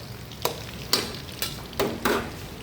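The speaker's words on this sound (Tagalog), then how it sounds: "Medyo patutugin natin po yung sibuyas bawang para yung aroma magkalasa." Onion and garlic fry in a pan with a low constant sizzle, punctuated by five sharp scraping stirs of a utensil at roughly even intervals, close by.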